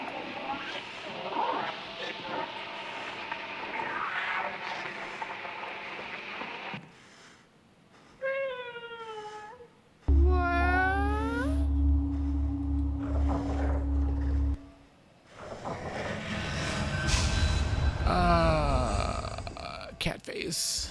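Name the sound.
cat meowing in Conarium video game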